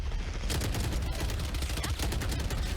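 Rapid SMG fire in a Valorant pro match, a dense spray of shots under constant caster commentary.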